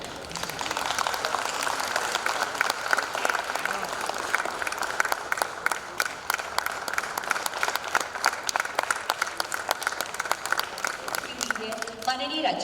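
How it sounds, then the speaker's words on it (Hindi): Sustained applause from a ceremony audience at a blood donation camp at Lok Bhavan, Ranchi, honouring the Governor; even, moderately distant clapping continues throughout, with a voice entering near the end. "सम्मान स्वरूप आप सबकी तरफ से तालियां होती रहनी चाहिए।"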